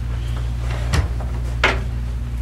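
A door opens inside a closed abortion clinic, with two short sharp clicks and creaks of the latch and hinge over a steady low hum, no talking.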